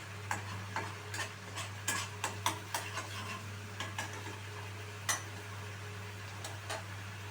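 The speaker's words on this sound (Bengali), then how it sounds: "এবার মশলাটা একটুখানি কষাতে হবে যতক্ষণ না তেল ছেড়ে আসছে" Cumin and tomato spice paste stir-fried in oil over a low flame, a soft steady sizzle under a low hum, punctuated by a series of light clicking scrapes of the spoon against the pan.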